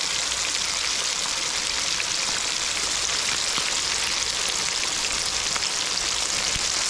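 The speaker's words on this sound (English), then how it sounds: "The weather here in Ohio today is perfect besides the fact that it's raining." Steady rain falls outdoors in Ohio, a dense, even hiss of droplets that holds at constant loudness with no talking over it.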